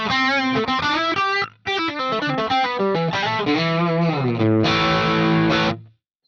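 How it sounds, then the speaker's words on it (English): Crunchy, distorted electric guitar played through a Quad Cortex with its doubler effect switched on, giving a thickened, chorus-like spread to the chords and single-note lines; loud and close with no talking, ending on a sustained chord that cuts off. "We turn on the doubler."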